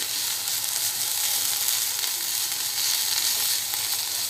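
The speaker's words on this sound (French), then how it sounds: "il faut vraiment que les oignons soient saisis" Onions searing in oil in a pan for lasagne give a steady, close, bright sizzle that holds at an even level throughout, with no voices.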